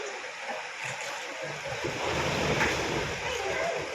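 Floodwater rushes through the centre of Tirunelveli as a house is swept away, a continuous broad roar of moving water that swells slightly louder partway through.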